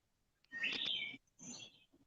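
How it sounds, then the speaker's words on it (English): Birds sing outside a cabin in the Smoky Mountains: two faint chirping, whistled phrases with a short gap between them, heard quietly against near silence. "I hear birds."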